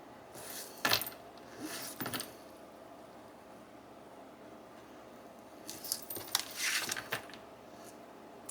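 Scissors snip a figure out of an old vintage photograph, giving a few brief, close crisp cuts and paper rustles in two short bursts separated by a quiet pause.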